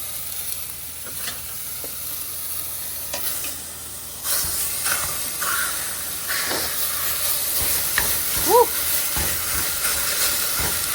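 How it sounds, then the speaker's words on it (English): Very lean ground beef sizzles in a hot pan with no oil, a steady bright hiss with occasional scraping and chopping taps as the meat is broken up. "now we just want to drop our ground beef in there"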